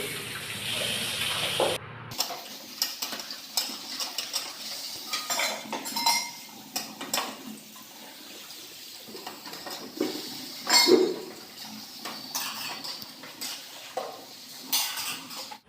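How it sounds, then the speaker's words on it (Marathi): Dishes, pots and utensils being scrubbed and washed by hand, with irregular metallic clinks, clatters and scraping amid running water, close by and moderately loud, without talk. "इथे माझं भांडी घासायचं काम चालूच आहे"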